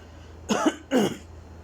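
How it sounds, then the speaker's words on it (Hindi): A man coughs twice in quick succession, close to the mic in a quiet room, each cough short and harsh with a slight throat-clearing edge. "यार मुझे खांसी आ रही है"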